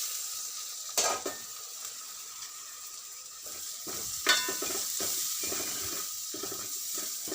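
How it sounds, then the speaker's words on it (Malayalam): Chicken curry with onions sizzles softly in a pan, with a quiet steady fry broken by occasional scraping stirs and clatters against the pan sides. "അങ്ങനെ നമ്മുടെ ചിക്കൻ കറി ആയിക്കൊണ്ടിരിക്കുകയാണ്."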